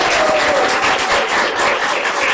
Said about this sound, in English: Ladies and gentlemen, a round of applause for all the contestants once more.